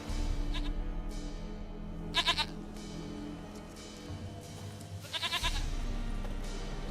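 A goat in The Witcher 3 bleats in short, quavering bursts: a faint one early, then two louder calls a few seconds apart, set against a quiet ambient game soundscape.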